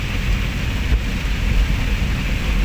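Rain falling steadily on a rainy day in the rural Philippines during a thunderstorm, a loud, continuous broadband patter with low rumbling underneath and no voices.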